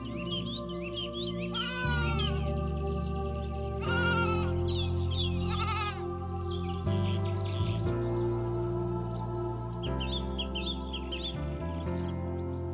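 Sheep bleat in several separate wavering calls, loud and close, over steady background music in an animated children's Bible story set among a flock.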